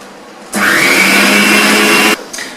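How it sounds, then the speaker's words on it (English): An electric mixer whisking eggs in a bowl for homemade icing, a loud, close, steady motor whine that starts suddenly, runs just under two seconds and stops, followed by a short, quieter burst. "we're just going to whisk those until they're a little bit bubbly"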